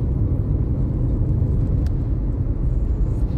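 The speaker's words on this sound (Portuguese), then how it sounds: "Um caminhão aí com ou gasolina ou produtos químicos líquidos." A passing truck hauling gasoline or liquid chemicals on a road in Natal, heard from inside a car as a steady, heavy low rumble of engine and road noise with no voices.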